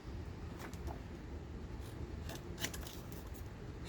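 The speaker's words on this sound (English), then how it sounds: "So we're going to cut this one same width as the envelope." Scissors snipping through paper while making a pocket for a junk album, a series of quiet crisp cuts in short irregular bursts, close and soft, with no talk.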